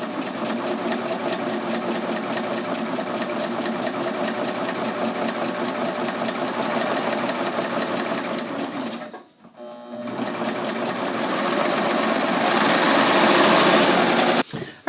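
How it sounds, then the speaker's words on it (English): A Baby Lock Ovation serger runs fast through linen fabric, a steady rapid mechanical chatter that pauses briefly partway, then resumes even louder until it stops at the end. "Let's go to the serger and try it with this color fabric"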